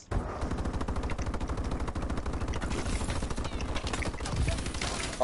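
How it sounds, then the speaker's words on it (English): XMG automatic gunfire in the Advanced Warfare shooter game, rapid sustained bursts of shots rattling continuously in a fast, even rhythm, loud and close. "that's you back here, shooting with XMGs"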